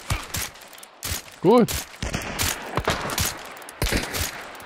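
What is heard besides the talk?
gunshots in video game Hunt: Showdown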